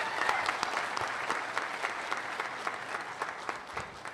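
A round of applause from the audience at a graduation ceremony, steady dense clapping sustained evenly throughout at moderate distance.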